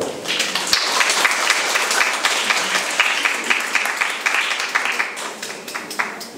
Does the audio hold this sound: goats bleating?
no